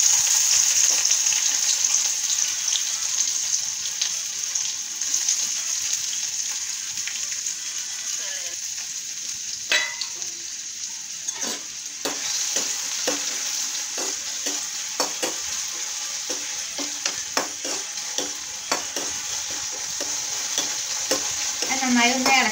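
Crushed shallots and garlic sizzle in hot oil in a pan, a continuous close hiss broken by repeated scraping and clinking strokes as the mixture is stirred.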